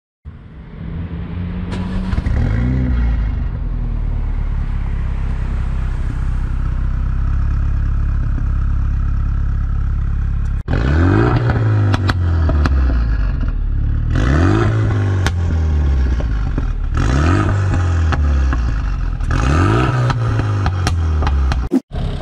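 A 2-litre turbo Renault Mégane RS engine runs steadily at idle, then gives four or five sharp revs with rising and falling pitch, loud and close in an engine bay, with no voices.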